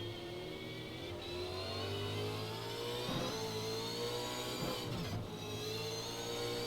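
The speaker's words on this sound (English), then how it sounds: "Just have a listen to this car as it jumps off of turn 3." A Super2 race car engine in the Automobilista racing game at Queensland Raceway sounds as a steady high-revving whine with layered harmonics, holding near-constant pitch with brief dips, loud and continuous with no talk.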